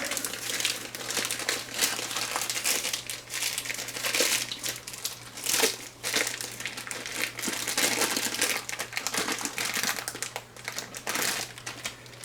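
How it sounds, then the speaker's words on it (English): A plastic bag crinkles and rustles as a pizza dough ball is pulled out of it, soft and close with irregular crackling throughout. "Take your dough ball, just remove it out of the bag."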